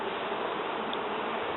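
Honeybees buzz in a dense, continuous drone around a bucket of honeycomb, with nothing else heard over the hum.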